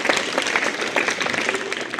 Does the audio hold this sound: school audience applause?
yes